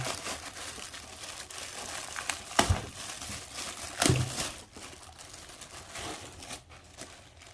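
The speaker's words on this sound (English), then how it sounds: "Let's unwrap this one." Plastic packaging crinkling and tearing as a new Yamaha starter is unwrapped, close and fairly quiet, with two sharper rips standing out among steady rustling.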